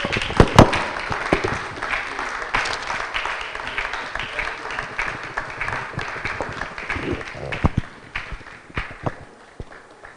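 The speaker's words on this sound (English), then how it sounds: "Dr. Felicia Agbuta, please give her another round of applause, ladies and gentlemen" Conference audience applauding after a talk, a dense clatter of clapping that rises at the start and gradually thins toward the end.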